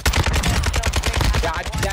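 Rapid, loud pistol shots crack in a quick, closely spaced burst during a Warzone 2.0 match, filling the short moment with hard, punchy reports.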